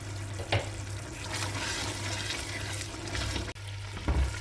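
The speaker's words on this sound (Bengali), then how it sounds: "মশলাটা কষানো হয়ে গেছে" Spiced masala for a chicken pulao, with green chillies and sugar added, frying and stirred in oil, giving a steady close sizzle broken by a few scraping strokes of a spoon.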